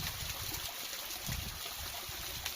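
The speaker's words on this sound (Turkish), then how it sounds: "taşlardan akan sular şırıl şırıl akarken" Water trickles over stones on a mountain plateau after fresh snowfall, a soft, continuous, quiet babbling and splashing with no voices.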